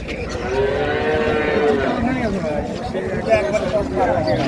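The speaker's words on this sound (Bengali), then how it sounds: "গাভী বাছুর।" A cow moos in long, low calls amid the busy crowd of Raniganj cattle market in Dinajpur, where dairy cows and calves are traded, with people talking throughout.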